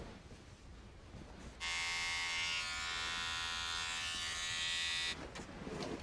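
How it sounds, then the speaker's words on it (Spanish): An electric shaver buzzes steadily for about three and a half seconds while shaving a beard, loud and close, with quiet room ambience before and after. "es hora de afeitar esa barba"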